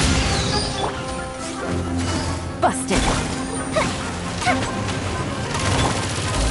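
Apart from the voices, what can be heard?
fireworks explosions from Genshin Impact video game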